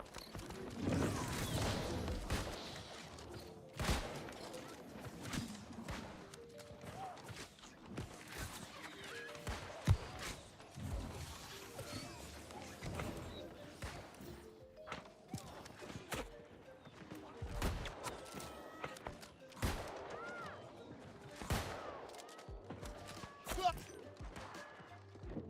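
Gunfire crackles in the online game New World, scattered sharp shots and short bursts at irregular intervals, with a player talking between them.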